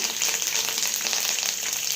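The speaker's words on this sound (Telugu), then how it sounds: "తాలింపు అయితే మంచిగా వేగిపోయింది. ఇక్కడ 2 ఎండుమిరపకాయలు, కరివేపాకు, కొత్తిమీర వేసేసుకున్నాను." Two dried red chillies, curry leaves and coriander crackle in hot oil as a tempering for a cucumber, peanut and tomato chutney, giving an even, close, hissing sizzle that runs unbroken.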